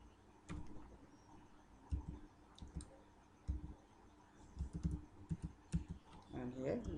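Code typed on a computer keyboard, scattered clusters of quick clicks and key taps, fairly close and soft, with a voice talking intermittently over it.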